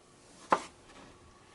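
A knife slices vertically through a strawberry on a cutting board, making a single short, crisp chop in an otherwise quiet kitchen.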